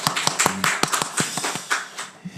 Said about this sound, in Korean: 우리 함께 영을 박수 올려드립니다.